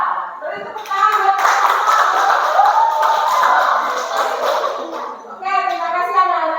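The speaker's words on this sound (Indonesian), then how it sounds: "Beri tepuk tangan." A classroom of children bursts into lively applause, many small hands clapping together at close range for several seconds while kids chatter and call out over it before it fades.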